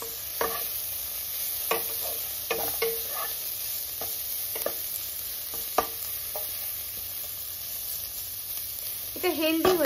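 Vegetables and egg stir-fried in a pan, with a continuous close sizzle broken by repeated scraping and tossing strokes and a denser burst of frying near the end.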